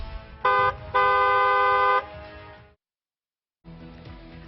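A car horn honks twice, a short blast then a longer one about a second in duration, loud and close, followed by a pause and another honk starting near the end over low road rumble.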